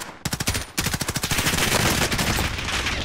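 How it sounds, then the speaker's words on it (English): Rapid automatic suppressing fire in a video game shootout, a fast steady stream of loud close shots broken by a brief pause, then continuing in a dense rattling barrage. "I'm gonna try and suppress him, give you suppressing fire"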